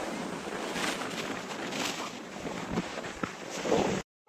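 Strong sea wind at the coast near the Thiruvalluvar statue, a continuous roaring rush buffeting the microphone with the wash of surf underneath, cutting off abruptly at the end.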